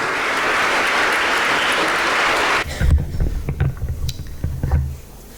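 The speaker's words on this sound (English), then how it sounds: "Please extend a round of applause to them" A gathering's round of applause at a talk, dense many-handed clapping that runs loud and steady, then stops abruptly halfway through, leaving quieter room noise with scattered knocks and shuffles.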